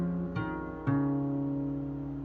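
Guitar playing the intro to a song, a sustained chord with open-string hammer-ons ringing out, quiet and close with two plucked attacks.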